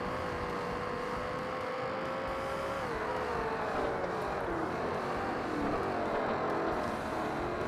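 Racing cars in the video game Forza Motorsport, engines droning steadily with shifting revs as several cars run close together, a continuous loud motor roar without speech.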